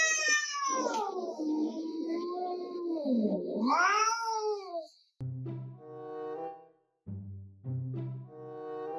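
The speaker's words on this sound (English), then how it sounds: "Every time I stop petting this cat, she yells at me" A cat yowls in a long, loud, wavering caterwaul when petting stops, followed by shorter meows in a pause-and-call pattern.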